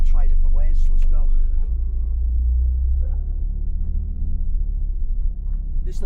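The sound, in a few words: car driving with a loud noise in the chassis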